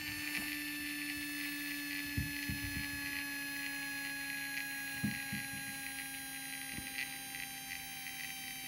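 A model locomotive motor, running on the stay-alive power of a Zimo MX623 decoder with a DCC Concepts stay-alive unit, gives a steady, faint electrical hum. Soft irregular clicks and thumps sound over it.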